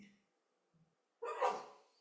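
A single sharp sneeze bursts out after a short faint breath, close and fairly loud, with a brief voice fragment just before it.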